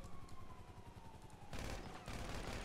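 Gunfire in the video game GTA 5 breaks out as a dense burst of shots layered over steady game sound, with no talking.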